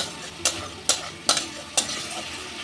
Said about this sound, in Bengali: জল দিয়ে দিয়ে দুবার তিনবার মশলাটাকে আমি কষিয়ে নেব